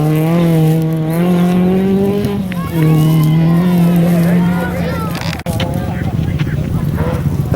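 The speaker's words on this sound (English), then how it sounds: "at the moment you can probably hear the sound of 3 cars" Rally cars on a gravel sprint stage rev hard, their engines droning loud and near with rising and falling pitch as they pass and brake, a sharp knock cutting in, while a commentator talks over them.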